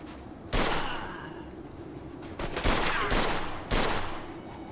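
Gunfire in Mafia II: Definitive Edition during a jewelry store robbery, several loud, close bursts of rapid shots, one near the start and others clustered later, each with a reverberant tail.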